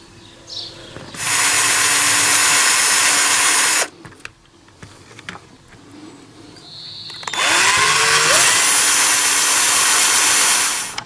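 A power drill whines loudly in two long bursts of a few seconds each, drilling out a drone's range extender fitting, separated by a quieter pause with small handling noises.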